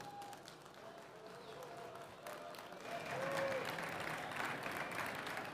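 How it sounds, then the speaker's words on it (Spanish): Applause from an audience at a tribute event for Aragonese food, faint at first and swelling louder halfway through into sustained clapping, with some voices underneath. "Un aplauso, por favor."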